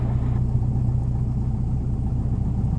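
A light aircraft engine runs steadily after its run-up, holding a low, continuous droning rumble with no breaks, loud and close throughout.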